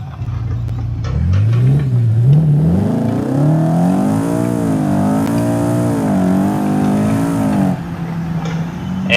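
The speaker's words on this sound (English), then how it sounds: "it actually has a custom engine sound as well, which I'll let you guys hear here" Custom engine sound of a BMW M5 G90 in the BeamNG driving game, a loud, close engine revving and climbing in pitch with wavering harmonics through several gear changes, then dropping back to idle.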